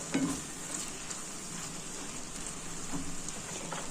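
Vegetables cooking over high heat in a pan, a steady soft sizzle with occasional stirring scrapes, close and fairly quiet.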